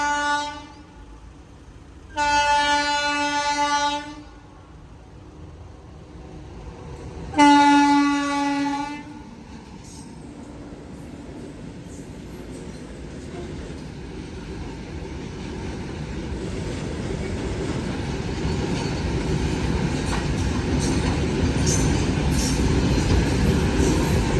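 A train sounds two long horn blasts, then a deep rumble swells steadily as it rolls closer and passes, loud and continuous to the end.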